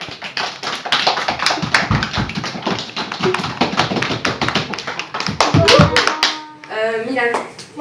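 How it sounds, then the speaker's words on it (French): Scattered hand claps from a group in a school classroom applaud a child, a rapid patter of taps running steadily under continuous nearby talk and ending with a brief spoken phrase. "Et voilà, on l'applaudit."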